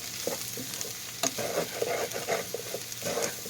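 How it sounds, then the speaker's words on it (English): Flour stirred into a pot of frying bacon, potatoes and onion for corn chowder, a soft continuous sizzle broken by several short scraping stirs of the spoon, close and fairly quiet with no talking. "And I'm going to stir it."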